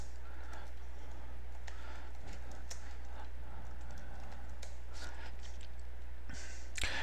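Java code being typed on a computer keyboard, with sparse, irregular key clicks and a few sharper taps, fairly faint over a steady low electrical hum.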